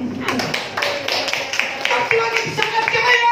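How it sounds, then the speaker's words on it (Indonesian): A church congregation claps during a Sunday service, rhythmic claps that fade under a voice that begins speaking partway through. "tepuk tangan dulu."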